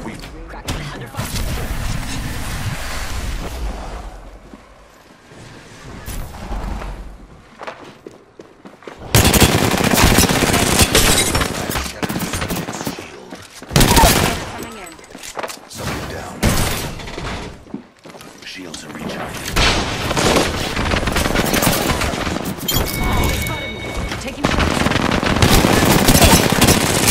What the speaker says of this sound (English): Opening fire. I set the portal. We've got it under fire.